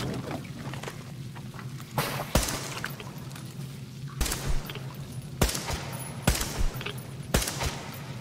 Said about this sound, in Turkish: Aa bak, buraya mermi sıkıyorum.